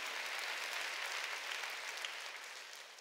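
A church congregation at a Sunday worship service claps together in a steady, dense wash of applause at moderate volume that eases slightly toward the end, with no speech over it.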